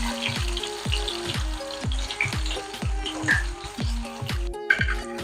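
Onions frying in oil in a pot for Mughlai chicken handi, a steady sizzle with repeated low thumps and scraping as the pieces are stirred and added, close and moderately loud with no voices.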